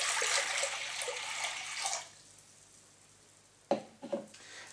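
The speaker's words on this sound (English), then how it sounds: "into a pot we're going to add 600 mils of water" Water is poured into a pot, a loud rushing stream for about two seconds that stops, followed by a few faint knocks and splashes.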